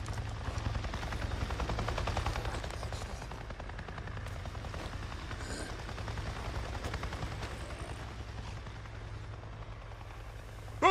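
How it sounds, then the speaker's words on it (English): A helicopter passes overhead with a steady, loud low rumble and a continuous rotor drone that holds for the whole stretch, with no voices. "I just saw a goddamn chopper!"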